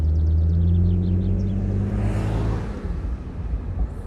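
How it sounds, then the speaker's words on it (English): A BMW Z3 3.0i six-cylinder engine rumbles loudly and close with a steady droning note, then the sound eases and fades as the car passes or backs off, leaving a lower, rougher rumble. "It's that classic BMW 6-cylinder soundtrack, that's for sure."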